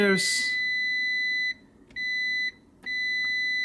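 A continuity tester gives steady high-pitched electronic beeps while testing a wire on a Datsun 120Y, sounding three sustained tones broken by short gaps, close and clear after a brief opening rustle.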